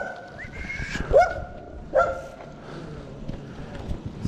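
A dog barks twice at night outside an abandoned house, two sharp separate barks about a second apart, moderately distant over a steady low background rumble.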